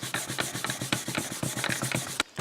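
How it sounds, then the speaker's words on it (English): Rapid back-and-forth rasping of sandpaper on a primed plastic surface, a steady scratchy rhythm of short strokes, close by, ending in a brief pause. "I will keep sanding on it"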